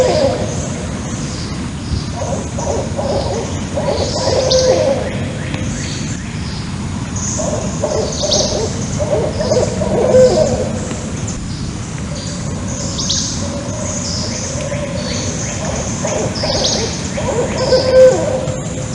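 Owls hoot back and forth across night woods, rhythmic low calls repeating every few seconds, one nearer and another far away answering, over a soft background hiss.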